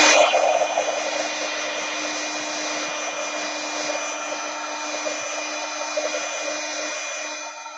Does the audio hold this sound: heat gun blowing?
yes